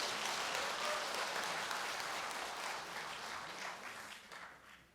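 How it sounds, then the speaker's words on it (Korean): Sustained audience applause fills a panel discussion hall at a Korean seminar on cooperative politics, a dense, steady wash of clapping that holds strong before tapering slightly toward the end, with no talk over it. "박수 한번 부탁드리겠습니다"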